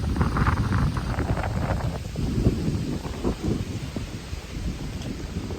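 A strong windstorm roars and buffets the microphone in gusty, rumbling waves, blowing dust and straw in open farmland, with no voices.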